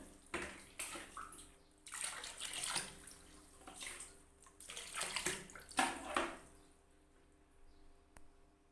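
Water scooped and poured into a basin until it is full enough to cover the feet, several splashing pours in uneven bursts, close and fairly quiet, easing off near the end.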